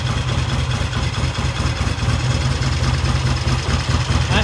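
A vintage British motorcycle engine running steadily just after its first start in three or four years on fresh gas and a fresh battery, a loud, close, continuous low idle with no voices.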